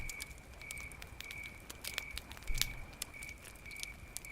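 Campfire crackling steadily, scattered sharp pops and snaps over a faint hiss and a thin constant background tone, moderately quiet and close.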